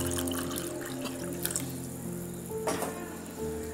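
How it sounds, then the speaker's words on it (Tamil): Water is poured steadily into a glass of homemade mango juice, giving a close, continuous trickle with a brief splashier burst near the end. "வாட்டர் ஊற்றிடலாங்களே."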